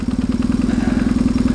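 BMW R 1150 GS boxer twin motorcycle engine idling close by, a steady loud low-pitched pulsing throb with even rapid beats throughout.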